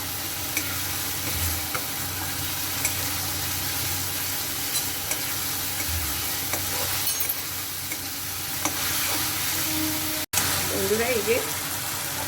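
Meatball curry sautés in oil with a continuous sizzle, while a spoon scrapes and stirs against the pan in repeated close strokes.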